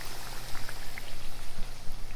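Okra pieces coated in cornmeal fry in hot oil, a close, steady crackle and hiss of fine popping bubbles with a faint low hum underneath and no talking.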